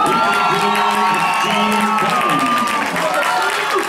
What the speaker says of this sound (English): Continue to applaud for a victory for Roger Herron.